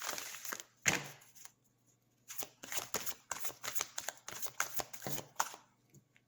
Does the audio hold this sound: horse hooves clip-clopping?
no